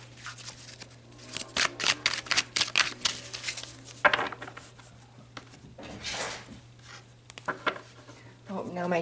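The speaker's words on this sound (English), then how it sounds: "let's shuffle and get a little bit more information about these 6 relationships" Tarot cards being shuffled by hand indoors, giving quick riffling and flicking bursts in uneven runs, soft and close, with a faint steady hum underneath.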